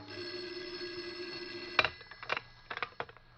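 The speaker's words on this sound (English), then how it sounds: "the phone rang. Its shrill ring filled the room." A telephone rings as a sound effect in an old-time radio drama, a steady shrill tone lasting nearly two seconds, followed by a few sharp clicks and knocks like a receiver being handled.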